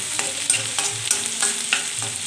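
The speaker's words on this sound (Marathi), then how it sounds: "आता ही घालून घ्यायची आपल्याला तेलामध्ये आणि छान अशी 2 मिनिटासाठी परतवून घ्यायची आहे" Ginger-garlic paste sautéing in hot oil, with a steady close sizzle and regular stirring scrapes, several spoon strokes across the pan, no voices.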